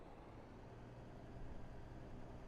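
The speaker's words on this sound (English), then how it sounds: "Fuel truck is really moving around a lot." A fuel truck idles and moves around a virtual airport ramp in a flight simulator, giving a faint, steady low engine rumble with no distinct events and no voices.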